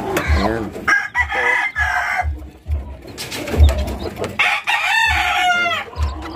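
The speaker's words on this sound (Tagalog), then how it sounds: "tignan natin yung mga sisiw" Newborn chicks and their mother hen, a native chicken, fill the space with clucking and cheeping calls, close and fairly loud, alongside crowing from a rooster nearby.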